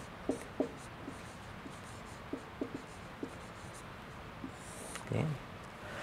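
Chalk or marker writing on a classroom board during a statistics lecture, a series of faint sharp taps and short strokes spread across several seconds, ending in a longer scraping stroke, with quiet room noise and no talk.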